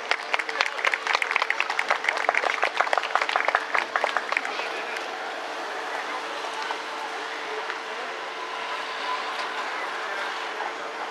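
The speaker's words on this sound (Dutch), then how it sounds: "Ik geef ze een groot applaus" At an outdoor public safety day demonstration, an audience claps in a burst of distinct, fairly loud hand claps that fade after a few seconds into a low, steady background hum.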